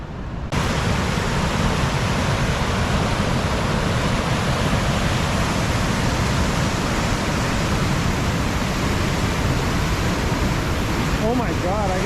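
A raging river rushes and splashes, its loud, dense roar of white water filling the scene without a break, and a voice comes in near the end.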